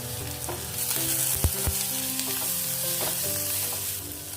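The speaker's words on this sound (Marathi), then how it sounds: "जिरं कांदा थोडं परतून घेऊया" Cumin and onion sizzle steadily in hot oil in a pan for a Maharashtrian cauliflower-potato curry, with close, loud frying crackle and a few scraping stirs, no voices.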